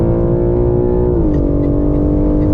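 BMW M3 at full throttle on the Goodwood race circuit, its engine a loud, steady harmonic drone that drops in pitch partway through as it comes off the throttle for a chicane, heard close from inside the car.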